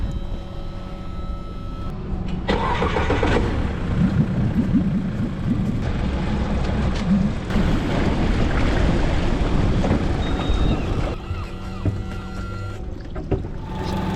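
Outboard engine on a small inflatable speedboat running at sea, a steady loud throaty drone mixed with rushing wind buffeting the microphone and water noise, with no talking.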